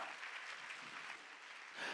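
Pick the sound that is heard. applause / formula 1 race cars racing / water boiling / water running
applause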